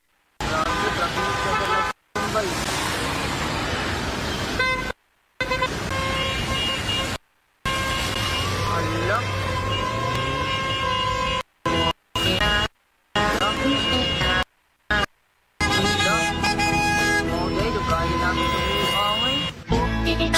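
Busy roadway traffic with passing cars and occasional horn toots, heard close and steady with repeated brief cutouts, while voices talk over the din.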